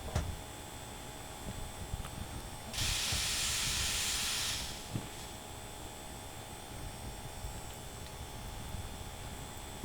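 A steam locomotive in Derail Valley gives a loud burst of hissing steam lasting about two seconds, set against a quiet, steady mechanical hum.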